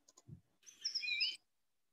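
A magpie gives a short chattering call, preceded by a few faint clicks, close and clear against a quiet background in a garden setting.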